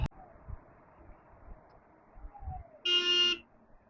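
A single vehicle horn honks loudly on a road for about half a second, cutting through low traffic rumble and faint road noise.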